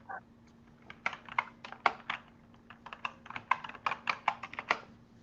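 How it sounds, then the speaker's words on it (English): Rapid typing on a clicky computer keyboard, close and crisp, in uneven bursts of sharp keystrokes with no voices. "I don't know how I'm going to type on the keyboard anymore."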